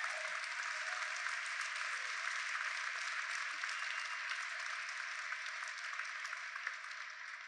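Audience applause at a documentary premiere Q&A: a steady, dense wash of clapping from a crowd, heard at moderate distance and continuing evenly without pause or voices.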